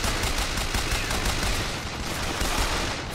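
Dense, continuous gunfire from a gun in the video game Bioshock Infinite, loud and sustained throughout as a rapid automatic barrage with no talking over it.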